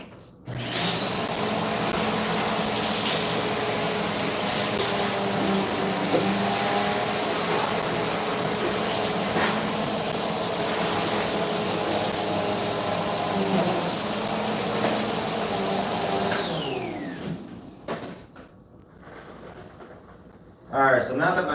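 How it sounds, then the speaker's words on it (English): A household vacuum cleaner runs steadily for about seventeen seconds while picking up broken glass, a loud continuous whine with a high tone, then winds down and stops; rattling debris may be mixed in. "now that my vacuum is full of glass"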